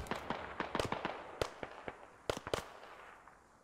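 Incoming rockets exploding in the video game Squad: a rapid, irregular string of sharp blasts and cracks, several close together, with the loudest bursts near the middle and then fading into a quieter rumble.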